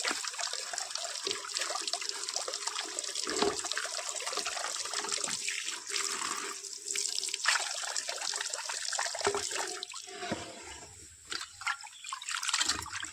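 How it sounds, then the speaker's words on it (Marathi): Water runs and splashes steadily from a tap, with irregular sloshing and handling sounds as small fish are rinsed, no talking. "मी आता हे स्वच्छ धुवून घेत आहे"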